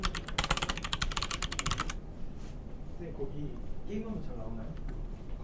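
Quick bursts of clicky computer keyboard typing while a search is entered, close and fairly quiet, with a person speaking over and after the keystrokes.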